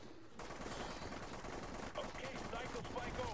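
Rapid gunfire from a weapon shot from the hip in The Cycle video game, dense crackling bursts that keep going over a continuous noisy background of moderate loudness.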